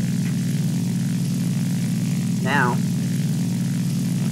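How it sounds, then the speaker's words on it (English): A dive bomber's propeller engine drones steadily and loudly in the War Thunder combat game, with a brief spoken voice over the constant hum. "No, I'm gonna use my dive bomber and just bomb them."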